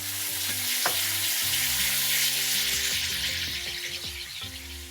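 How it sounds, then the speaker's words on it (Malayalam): Coriander paste sautéing in a pan with three dried chillies and curry leaves for a Kerala mutton curry, a steady close sizzle with scattered stirring scrapes throughout, no talk. "മല്ലി ചേർത്ത് ഒരു 3-4 മിനിറ്റ് വഴറ്റി കഴിയുമ്പോൾ"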